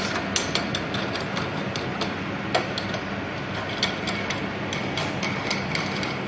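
Nuts being tightened onto bolts through an 8-inch stainless steel SS304 end cap used for hydrostatic pressure testing, giving repeated small metallic ratcheting clicks and ticks over steady background noise, with no talking.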